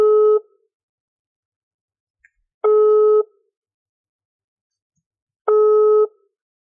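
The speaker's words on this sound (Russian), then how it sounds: "Абонент не отвечает. Оставьте сообщение после сигнала." A telephone ringback tone sounds during an unanswered call: three steady, clean beeps of about half a second each, repeating every few seconds with silence between, close and clear, with no voices.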